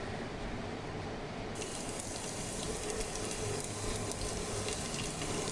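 Urad dal crackling in hot coconut oil for a tempering, a steady, close hiss of sizzling that swells slightly partway through, with no voices.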